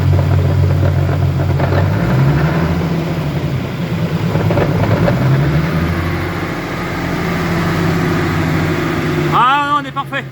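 A BMW E36 turbo engine runs loudly up close, idling with a couple of blips in revs, a steady mechanical drone with a brief chirp near the end.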